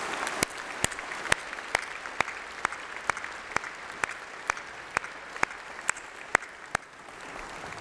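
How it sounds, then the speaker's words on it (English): Sparse, slow applause at a university graduation ceremony in a large hall, a few sharp, evenly spaced claps ringing out over a soft room murmur for several seconds before fading. "let's have a round of applause, a massive round of applause if you won't mind, for all those special people"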